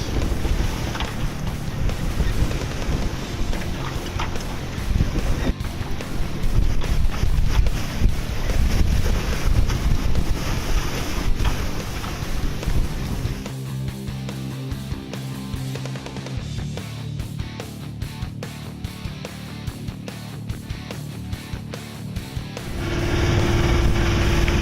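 A sailboat sailing solo in big winds and big waves on Lake Michigan, with loud wind buffeting and roaring hull and water rush for most of the clip before it eases, then gusts rise again at the end.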